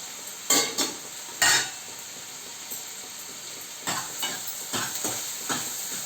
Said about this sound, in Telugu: ఉల్లిపాయ, పచ్చిమిరపకాయ బాగా ఎర్రగా వేగాలి.